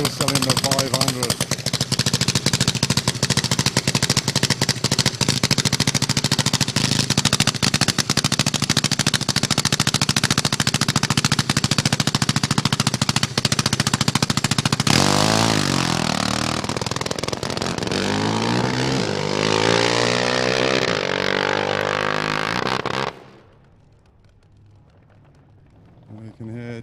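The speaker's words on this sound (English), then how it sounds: "Leave you to this glorious sound of the single cylinder 500." A single-cylinder 500 drag racing motorcycle engine roars loud and continuous at a drag strip, its note shifting midway, then cutting off abruptly to near silence.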